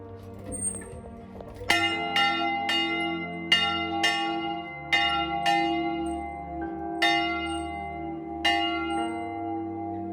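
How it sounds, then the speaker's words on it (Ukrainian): A church bell tolls repeatedly at a slow, regular pace at the Church of the Archangel Michael in Popelnyky, Ukraine, each strike ringing out and lingering, with a faint bird chirp early on. "на спільну молитву вірян скликає дзвін"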